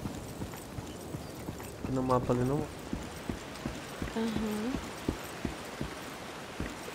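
Horse hooves clip-clop in a steady rhythm while riding a horse in the video game Lost Ark, moderately close, with two voices talking over them.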